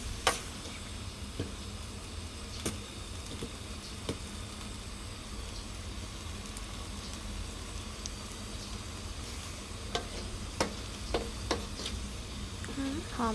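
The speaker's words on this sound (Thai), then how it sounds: "คั่วไปพี่น้องคั่วให้น้ำมันบกน้ำมันแห้งพุ่นละ" Chicken offal for hor mok is stir-fried in a pan until dry, giving a steady close sizzle with occasional sharp ticks and scrapes of stirring throughout.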